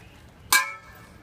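A sword swung and striking a buckler shield gives a single sharp, ringing metallic clang that decays quickly, heard close and alone against quiet background.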